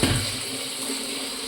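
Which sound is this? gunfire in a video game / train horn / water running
water running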